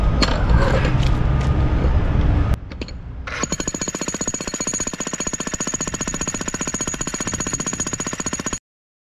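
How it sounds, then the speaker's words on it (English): A loud jackhammer pounds concrete in a parking lot drainage basin in a steady rapid rhythm, close by, after a few seconds of heavier rumbling and clatter; no voices. "it's time to get in here with the jackhammer and the pry bar"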